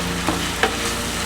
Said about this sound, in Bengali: মশলাটাকে এরকমভাবে খুব সুন্দর করে ভাজা ভাজা করে কষিয়ে নিতে হবে